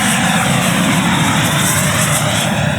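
JetFan-110 Black Horse Viper electric ducted-fan RC jet, 7.2 kg with an 8s 3 kW motor, roaring steadily in flight with a loud, continuous high whooshing whine and no talking.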